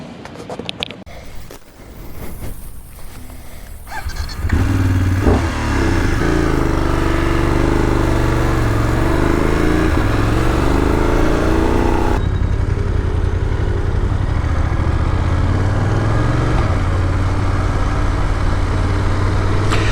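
A BMW motorcycle riding through busy city traffic, a loud steady engine drone with wind rush after a brief quieter start, no talk.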